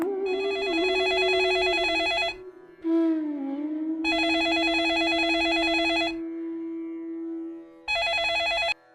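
A telephone rings as an older brother calls his younger brother's home: three bursts of a bright, buzzy ring, each about two seconds long and separated by short pauses, with the last burst cut off.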